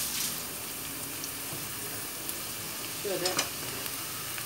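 Two chopped medium onions sauté gently in a pan for an eggplant dish, a soft steady sizzle at low volume with a brief stir and a few quiet spoken words partway through.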